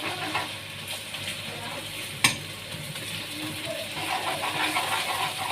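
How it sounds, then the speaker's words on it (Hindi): Garlic ginger paste frying in a pan with softened onions, a steady soft sizzle with stirring scrapes and one sharp clink of a utensil partway through. "अब हम इसमें डालेंगे लहसुन अदरक का पेस्ट।"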